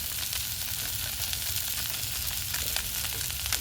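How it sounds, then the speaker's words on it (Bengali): Fish oil and spring onion stalks fry in a pan, a steady, dense sizzle that stays loud and even throughout, with no talking over it. "ভালো করে আর একটু ভেজে নেব"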